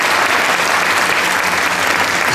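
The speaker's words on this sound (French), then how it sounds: "Merci de l'applaudir." An audience at a New Year's wishes ceremony applauds, dense and loud steady clapping filling the room throughout.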